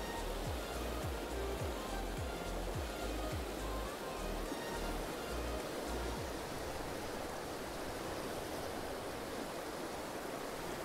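Rushing water at Carderock Recreation Area, a steady, broadband roar like a rapid river or cascade, continuous and unbroken, with low thumping wind or handling bumps in the first few seconds.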